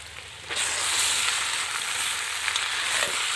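Chicken pieces dropped into a pan of browned fried onions set off a sudden loud, steady sizzle that carries on continuously, with faint stirring scrapes mixed in.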